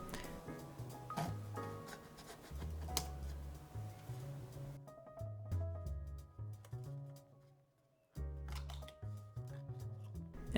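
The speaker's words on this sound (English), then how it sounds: "I'll just cut through this label." A blade cutting through the label on ink bottle packaging, a series of close, crisp scratchy slices and crinkles with short pauses and one brief near-silent gap, no speech.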